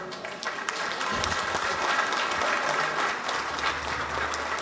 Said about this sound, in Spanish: Al maestro Adelfo Regino, aplauso.